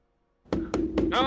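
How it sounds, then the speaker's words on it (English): Three firm knocks on a door, close and distinct, followed by a fourth sound with a bright ringing edge, against a low steady hum. "Andrew, you hear a knock at your door."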